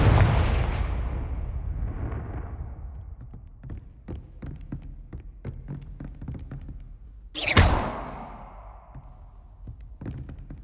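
The Confringo fire spell in the video game Hogwarts Legacy: a big roaring blast that fades slowly, followed by scattered thuds and taps, then a second sharp burst that also decays away.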